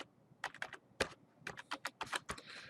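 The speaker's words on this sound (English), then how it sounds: "Now I'm going to go in here and I'm going to type it in." Typing on a computer keyboard while entering a date into an Excel spreadsheet: a quick, uneven run of close, crisp key clicks with short pauses between bursts, heard alone without any talk.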